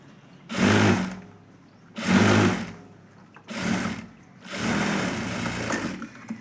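Sewing machine stitching kurti fabric, running in four distinct bursts of rapid mechanical whirring separated by short pauses, close and fairly loud, the last run longest.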